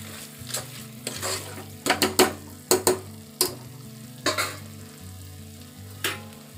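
Grated raw papaya and spices with garam masala sizzling and being stirred in a hot pan, with repeated scraping strokes of a spoon over a steady fry.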